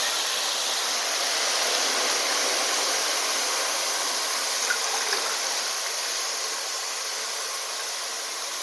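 Running water rinses fresh fenugreek leaves for a Maharashtrian methi bhaji, a steady close hiss of flowing water with no voices, holding evenly throughout.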